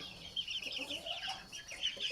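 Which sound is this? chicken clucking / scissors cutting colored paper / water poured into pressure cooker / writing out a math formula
chicken clucking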